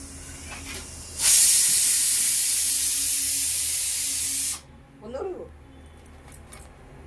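A small pressure cooker boiling apple lets out a loud, steady hiss of steam lasting a few seconds, cutting off abruptly, followed by faint clinks and a short knocking rattle in a quiet kitchen.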